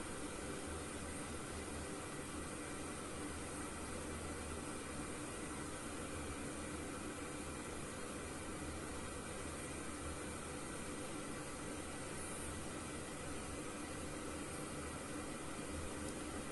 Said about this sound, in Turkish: Motorun sesi duyulmuyor. Genelde fanlardan ses geliyor.